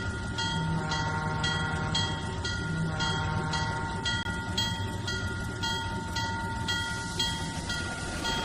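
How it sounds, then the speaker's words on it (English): A train shunting in a rail yard in the simulator game Trainz 2019 on the C&O line at Hinton, with a steady loud engine drone, a horn or whistle tone and rhythmic clicking running throughout. "he's got some shunting to do, and he's got to go back to the other side of the yard to get that done"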